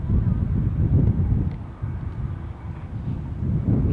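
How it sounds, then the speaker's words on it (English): KLM Airbus A330 at Amsterdam Schiphol airport, its engines spooling up as a deep, steady roar with low rumble and some wind buffeting on the microphone, continuous and fairly loud. "Just thought I heard the engine pick up there for this KLM"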